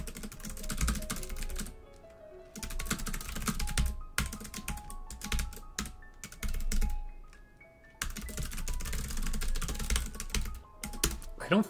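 Bursts of close computer-keyboard typing come in several clusters separated by short gaps, crisp rapid key clicks over a low background with faint tonal hum.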